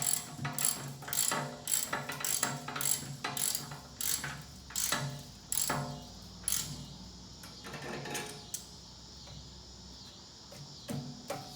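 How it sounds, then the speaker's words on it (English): A ratchet wrench driving bolts to fasten a gas tank back onto a vehicle, heard close and alone as quick runs of sharp metallic clicks in rhythmic bursts, slowing and fading toward the end. "Found some bolts out of my used bolts bin and just bolting this back on so it doesn't fall off."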